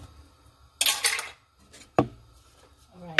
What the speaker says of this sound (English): I'm just gonna mix that up a little bit, get it heated up